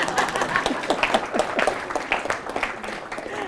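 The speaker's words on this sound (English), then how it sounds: "you can go ahead and clap for them." Applause from an audience at the close of a presentation on IT supporting business functions, a dense patter of many hands clapping at steady loudness, with a few faint voices mixed in.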